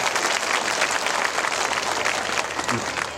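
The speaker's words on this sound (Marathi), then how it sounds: "जोरदार टाळ्या" An audience at a Dhamma conference in Purna claps loudly and steadily throughout, a dense sustained applause with no voices rising above it.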